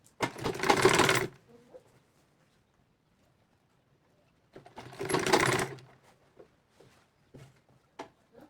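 Sewing machine stitching down pleats on a hijab, two separate bursts of steady close stitching about a second each, separated by quiet handling and small clicks of the fabric.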